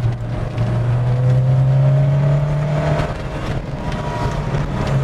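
A 1970s Ford Escort RS2000 mk2 with its Pinto engine while driving, a steady droning engine note from inside the car that rises slightly in pitch and then settles, continuous road and wind noise underneath.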